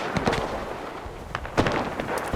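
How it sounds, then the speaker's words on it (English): Artillery shells land in the video game Enlisted during a Pacific War beach invasion at Guadalcanal, with several sharp, distant blasts and crackling bursts scattered over a couple of seconds at moderate loudness. "Calling in artillery!"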